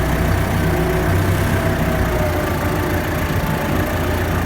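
A loud, steady tractor engine drone, close by, with a deep low rumble and broad mechanical noise throughout, no talking, while baling hay.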